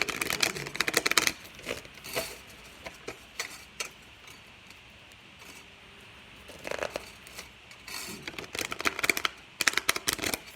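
Tarot cards being shuffled by hand, in bursts of rapid riffling and flicking near the start, middle and end, with quiet pauses between, close and clear with no talking.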